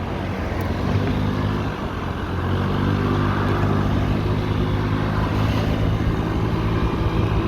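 A Honda Dio AF68 fuel-injected Japanese scooter accelerates with a steady, droning engine hum mixed with wind rush, loud and constant throughout, and no voices.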